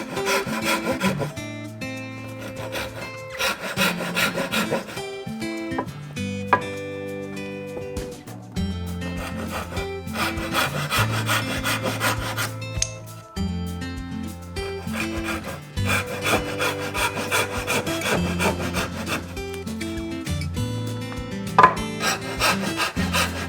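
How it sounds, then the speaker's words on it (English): A Japanese handsaw crosscuts and rips wood for a loft ladder in repeated rhythmic rasping strokes, close and steady, in bursts with brief pauses between them. "cut it by crosscut sawing first, and the portion drops after cutting by rip sawing"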